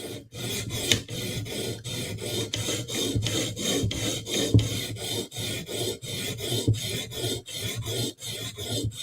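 Rhythmic rasping strokes of a blade bevel drawn across a sharpening stone, steady back-and-forth passes with brief gaps between them, close and continuous without any talking.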